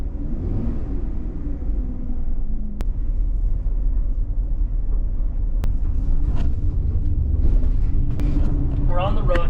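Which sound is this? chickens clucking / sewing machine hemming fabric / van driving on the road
van driving on the road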